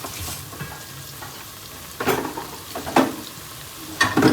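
Onions sizzle steadily in a frying pan for Egyptian koshari, with louder stirring scrapes and crackles arriving roughly once a second near the end, heard close and alone.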